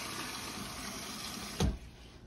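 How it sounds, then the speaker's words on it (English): Water pours steadily into a pot of pinto beans, a faint continuous rush. It ends in a brief low splash or clunk near the end. "A little bit more water."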